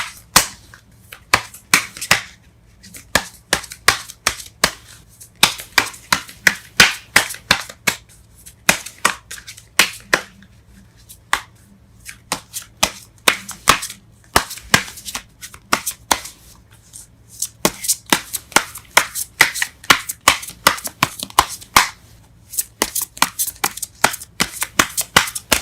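Tarot cards being shuffled over and over, a long run of crisp rapid snapping riffles and flutters in quick irregular bursts, close and clear with no talking.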